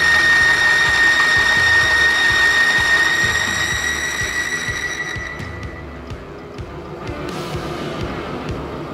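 A diesel engine running without oil, treated with Petron engine conditioner, sounds loud and close with a rapid rhythmic knocking and a high whine that fades as it winds down.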